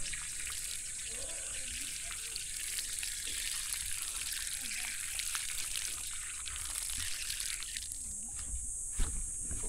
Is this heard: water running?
yes